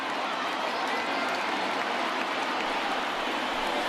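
Ballpark crowd noise in MLB The Show 20 as the fans get to their feet, a dense, steady roar of cheering that fills the whole clip without letup.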